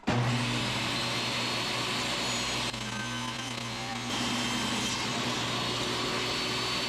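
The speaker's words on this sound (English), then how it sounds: "it'll cut this into 2 pieces with a diagonal so that one side of each one has a bevel" A power saw cutting a diagonal bevel through wood during a wooden boat roof restoration, a loud steady whine running throughout with slight shifts in pitch as the blade works.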